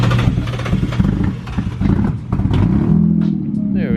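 A damaged Nissan 350Z limo engine idles loud and rough nearby, with a low steady rumble and a piston leak, while people talk over it.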